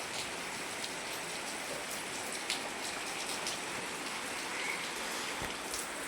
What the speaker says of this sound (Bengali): এই যে বাইরে বৃষ্টি হচ্ছে